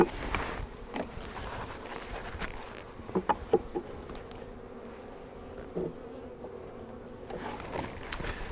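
Honeybees buzz steadily around an outdoor beehive during feeding, a faint continuous drone with a few brief soft knocks and taps partway through, no voices.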